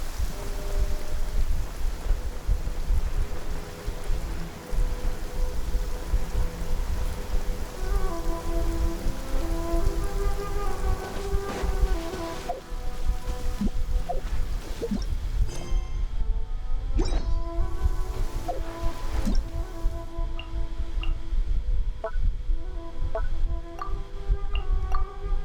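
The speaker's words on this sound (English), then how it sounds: "Alright, so it's raining," Steady rain pours on surfaces in a Splatoon 3 drizzle-season game scene, a loud constant hiss with occasional sharp knocks and game music tones running underneath.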